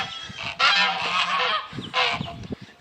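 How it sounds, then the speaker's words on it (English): A broody domestic goose honks loudly and close by, giving a few harsh, nasal calls in quick succession with short pauses between them. "She's calling her other geese."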